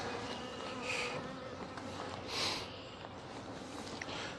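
Honey bees buzz around a nuc hive in a small apiary, a steady insect drone close to the microphone with a couple of louder passes as bees fly near.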